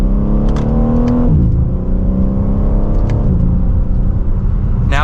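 A 2024 BMW M3 Competition xDrive pulls hard from second gear, its engine note climbing steadily, dropping at a quick upshift and climbing again, loud and close from inside the cabin with no talking.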